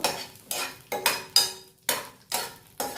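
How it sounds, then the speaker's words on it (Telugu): Green chillies frying in oil in a pan, with a spoon or ladle scraping and stirring in regular strokes about every half second, close and fairly loud with little sizzle between. "పచ్చిమిర్చి ఇట్లా బాగా ఒక ఫోర్ ఆర్ ఫైవ్ మినిట్స్ కొంచెం వేగాలండి ఈ నూనెలో"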